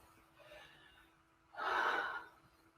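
A person takes one quiet inhale followed by a louder, deeper breath, close and alone with no talking.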